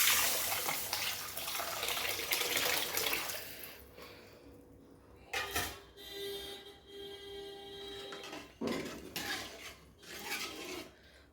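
Dissolved tamarind water is poured into a pot of tomato rasam, making a soft, rushing splash near at hand that fades out, followed by a couple of shorter sloshing pours and some faint kitchen rustling.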